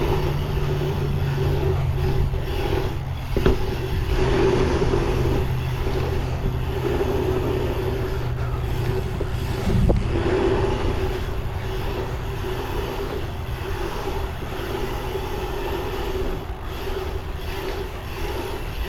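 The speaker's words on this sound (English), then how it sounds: "let's take this out and see how these DTH tires ride" A dirt jumper bike on Maxxis DTH tires rolling over a dirt track, a steady rumbling tire and wind noise with a couple of thumps, no talk.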